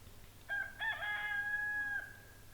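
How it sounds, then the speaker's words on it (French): A rooster crows once in a garden, a clear drawn-out cock-a-doodle-doo lasting about a second and a half, moderately distant over a faint outdoor background hum with no talking. "à part des chants de coq, je n'ai rien remarqué"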